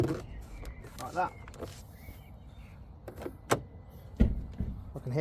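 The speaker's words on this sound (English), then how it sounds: "I can hear the door working on the inside" A Peugeot 308 car door's inner mechanism whirs and clicks in short bursts, close by and fairly quiet, with sharp knocks between them.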